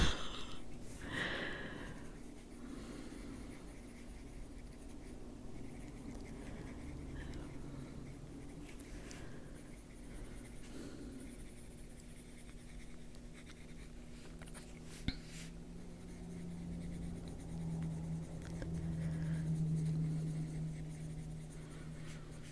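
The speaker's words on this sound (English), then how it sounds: "Just kind of turning the pencil to get that sharp edge, to get those little bumps in there." Pencil sketching on paper up close, soft scratchy strokes coming in uneven bursts, with faint breathing and quiet room noise underneath.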